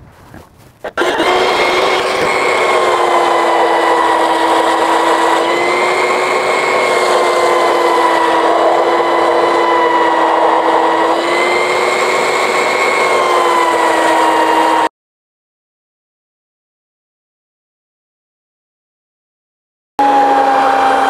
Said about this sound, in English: now we'll get the belt sander out and round these off and make them into nice finished holds